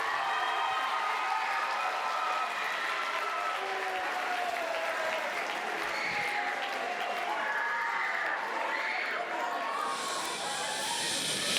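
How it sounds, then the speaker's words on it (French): Steady audience applause at a literary event greeting an invited author, a continuous broad wash of clapping mixed with murmuring voices and some tonal sounds throughout. "Merci d'applaudir comme il se doit"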